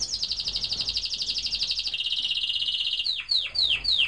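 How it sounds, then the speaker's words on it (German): A small bird sings close by in rapid repeated chirping trills, shifting into a sustained whistle and then a few descending sweeping notes, with no talking. "Hallo, Vogel, nun werde ich dich wieder zum Singen bringen."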